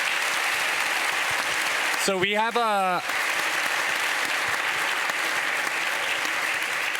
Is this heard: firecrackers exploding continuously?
no